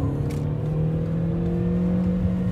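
Volkswagen Polo 5 with a 1.4 85 hp engine accelerating hard while pulling out to overtake, a steady close engine drone with a rising whine, heard from inside the cabin.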